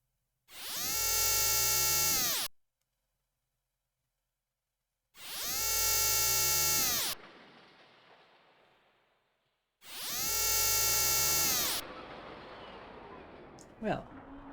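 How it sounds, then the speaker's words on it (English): Drilling machinery in Xenogears, three loud sustained mechanical bursts of about two seconds each, separated by silences, the later ones trailing off into a rumbling tail, followed by a short sharp knock near the end. "Drilling. Drilling"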